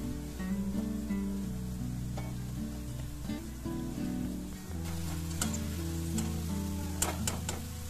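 Sweet corn frying in a pan gives a soft, steady sizzle with faint crackles and a few sharp ticks toward the end, quiet and close with no talking.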